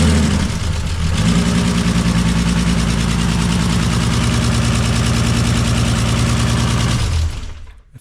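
A BMW E36 fitted with a swapped M54B30 3.0-litre turbo engine on E85 cranks briefly, catches and settles into a loud, steady, close idle with a rough pulsing beat, then cuts off near the end.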